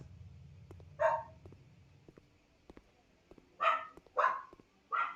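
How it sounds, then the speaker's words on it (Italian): A dog barking downstairs in a home, four muffled barks heard through the floor, one alone and then three in a loose cluster, faint under low room noise. "sentite il cane abbaiare sotto?"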